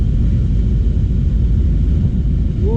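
A very long goods train passes on a rail line between Multan and Mian Channu, a loud, continuous low rumble that rolls on steadily without a break.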